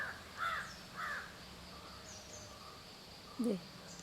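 A greater coucal, or crow pheasant, perched on a branch close by, giving a few hoarse caw-like calls in short bursts over a faint, steady outdoor hiss.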